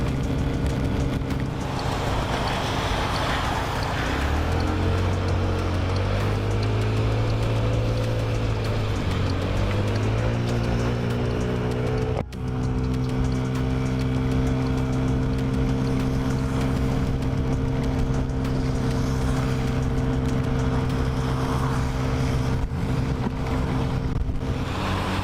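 A Honda Ruckus scooter rides through the rain, its small engine droning steadily close by with pitch rising and falling as it speeds up and slows, under constant wind and road hiss.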